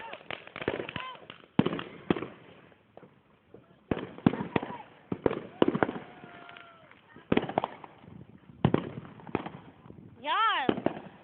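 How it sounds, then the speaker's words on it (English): Fireworks crackling and popping in rapid bursts at close range, sharp loud bangs in clusters, followed by a rising whistle near the end. "there's a firework in this blackness."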